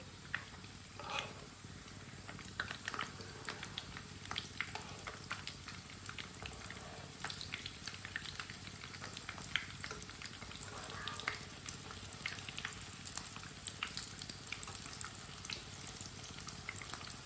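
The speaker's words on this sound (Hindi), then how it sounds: "टिक्की हमारी दोनों साइडों से फ्राई हो चुकी है" Potato patties (aloo tikki) fry in oil in a pan on a stove, a steady, fairly quiet crackling sizzle with dense pops running throughout, no voices.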